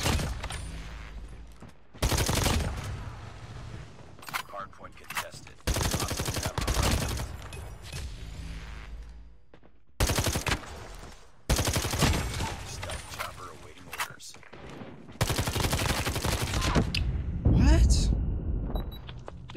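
Bursts of automatic gunfire in the mobile shooter Call of Duty Mobile, several loud, sharp volleys separated by short pauses, with a player's voice talking over parts of the action.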